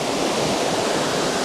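A creek rushes loudly nearby as a constant broad roar of moving water, steady from start to end, with no one talking.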